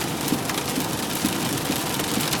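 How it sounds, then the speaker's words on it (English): A thunderstorm heard from inside a car driving on a highway in Illinois, with a dense, steady wash of rain drumming on the roof and windows over a low engine hum, continuous and fairly loud. "We got quite a thunderstorm going on here."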